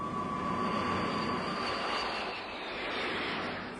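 US 7th Fleet propeller planes drone overhead in Korean War footage, a sustained moderately loud engine hum with a faint tonal whine, swelling slightly and easing off across a few seconds.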